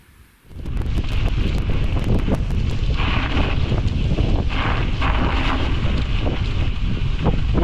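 Strong wind roaring into the microphone during a winter bike ride through snow in Denali National Park, a loud, steady buffeting rush that starts abruptly and holds throughout.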